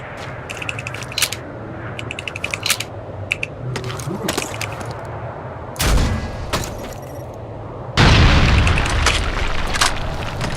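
Grenade launcher explosions in the video game Lost Planet 3, a run of deep booming blasts, with heavier, louder detonations near the end over a busy game soundscape.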